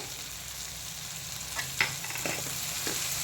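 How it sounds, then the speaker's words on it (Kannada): Gram flour stirred into frying capsicum curry in a pan of hot oil, a steady sizzle with a few spoon scrapes and knocks, close and without talk. "ಸೊ ಕಡಲೆ ಹಿಟ್ಟು ಹಾಕಿದ ತಕ್ಷಣ ಹೀಗೆಲ್ಲ ಮಿಕ್ಸ್ ಮಾಡ್ಕೋಬೇಕು."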